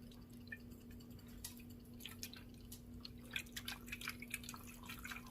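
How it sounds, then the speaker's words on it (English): Water drizzled from a container onto freshly planted seeds indoors: faint, scattered patters and drips that grow busier toward the end, very quiet over a steady low hum. "So drizzle a little bit on there."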